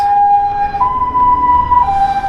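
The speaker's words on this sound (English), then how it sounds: "Ambulance." An ambulance siren wails loudly and steadily on a busy city street near a large intersection, with traffic rumble underneath.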